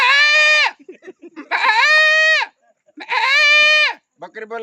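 A man mimics a goat with three loud, nasal bleats close up, each about a second long and separated by short gaps of quiet breathing and small mouth sounds.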